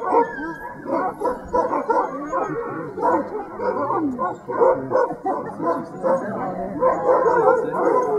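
A pack of excited dogs bark, yip and howl continuously and close by, loud and dense throughout, with people talking under the noise.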